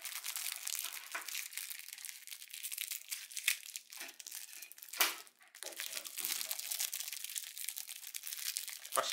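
A snack ring packet, a crisp plastic wrapper, crinkles and crackles continuously up close as it is handled and torn open, with one sharper rip midway. No voices are heard.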